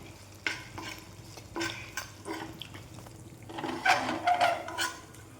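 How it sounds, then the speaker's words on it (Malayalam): Coconut fries over low heat for a beef fry with soft, intermittent sizzling and stirring in a pan, with brief scraping bursts that grow louder near the end; no talking. "നമ്മളുടെ ഇവിടെ കോക്കനട്ട് ഇവിടെ വറുത്തുകൊണ്ടിരിക്കുകയാണ്"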